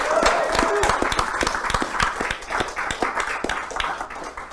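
An audience at a comic book publishing summit claps in a dense burst of applause, loud at first and gradually thinning out over a few seconds.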